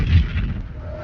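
A podcast intro explosion sound effect bursts with a deep, loud boom that rolls into a low rumbling decay over about a second.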